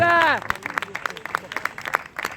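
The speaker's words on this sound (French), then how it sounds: "On va encore applaudir une fois Johnny s'il vous plaît, et Brigitte et Michael" At the Virton carnival, an audience breaks into scattered applause of individual claps after a voice trails off at the start, with the claps uneven and moderate against a quiet background.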